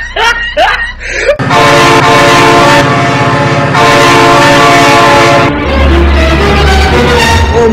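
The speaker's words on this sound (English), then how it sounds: "Oh my god, train!" A train in the BeamNG Drive driving game blasts a loud, sustained horn as it passes close by, drowning everything, with a brief shout or scream at the start and a rumbling shift near the end.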